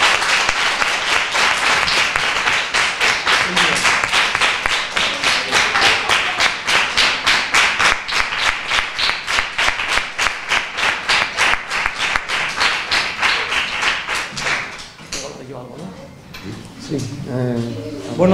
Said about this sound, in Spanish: vamos a comenzar dando a Javier el mayor aplauso que se merece